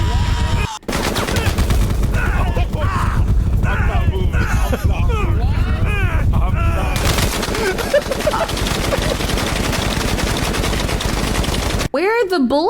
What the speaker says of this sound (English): a looping sound of bullet impacts being blasted into your ears